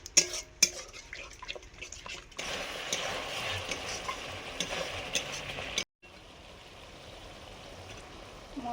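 Spice paste being stirred steadily in a pan for a fish kalia, a continuous scraping and sizzling texture with a few sharp knocks early on, close and moderately loud, with a brief break near the end.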